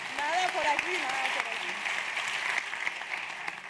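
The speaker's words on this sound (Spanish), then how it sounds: "un aplauso para mi alumna más aleccionada" Audience at a live magic show applauds steadily for several seconds, a dense even wash of clapping with a voice speaking over it near the start.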